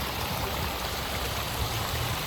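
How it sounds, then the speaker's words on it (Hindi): Water rushes steadily around a 3000 kg stone sphere turned by water pressure in a Jaipur villa colony, a soft, continuous splashing flow heard alone at low level. "ये 3000 किलो का पत्थर है जो पानी के प्रेशर से घूम रहा है।"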